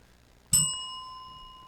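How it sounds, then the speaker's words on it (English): A small bell struck once, giving a sharp ding that rings on with a clear, slowly fading tone, close and alone with no voices. "Hit the bell."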